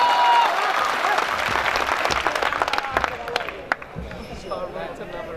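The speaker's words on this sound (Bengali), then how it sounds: "সৌরভের জন্য মস্ত বড় একটা হাততালি হয়ে যায়।" An audience at a student farewell gathering applauds for Sourav, loud sustained clapping from many hands that thins out toward the end, with a few distinct claps near the close.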